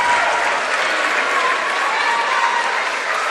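Crowd applause at a high school basketball game during a fourth-quarter milestone celebration, Bishop Guertin at Trinity: dense, steady clapping and cheering filling the gym at loud level throughout without a break.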